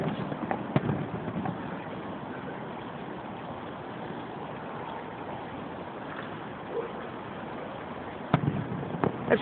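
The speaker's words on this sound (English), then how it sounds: "Watching the fireworks from my rooftop." Fireworks over Easton, Pennsylvania, watched from a rooftop, come as distant muffled booms and sharp cracks, a few isolated bursts early and a cluster near the end over steady outdoor rumble.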